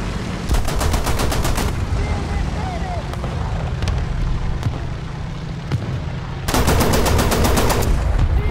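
A Flakpanzer I anti-aircraft gun in the War Thunder video game fires two loud, rapid bursts of evenly spaced shots, one near the start and one near the end, with scattered single cracks and rumbling battle noise between them.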